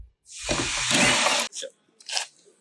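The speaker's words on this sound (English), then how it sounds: "Then pull this bolt out." A bolt pulled free from a Marlon Xplore Pro III sled deck gives a loud, sustained scraping rasp lasting about a second, followed by two short, softer metallic scrapes, close up with no talk.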